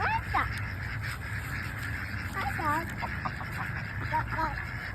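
Ducks, including ducklings, quacking at a park, short scattered calls rising over a background of outdoor noise, with people talking nearby.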